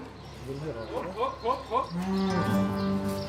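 Dairy cattle on a farm low in a drawn-out, wavering moo that rises into a steady, sustained call, loud and fairly close, with no voices over it.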